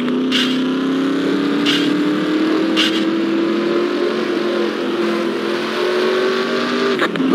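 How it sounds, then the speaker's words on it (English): NASCAR PC video game race car engines drone and rev in a continuous rising whine, with a few sharp bursts on top, loud and close throughout. "Drivers, start your engines!"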